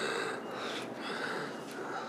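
Laboured, wheezy breathing of a hospital patient with a pneumothorax after a car rollover, close raspy inhalations and exhalations with snorting and sniffing, alone without speech.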